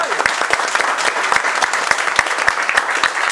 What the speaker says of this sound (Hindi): एक बार कल के लिए जोरदार ताली बजाओ